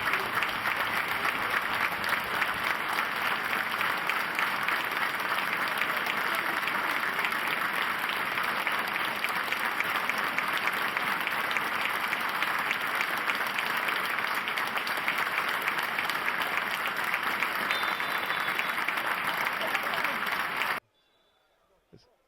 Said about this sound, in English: Applause rings out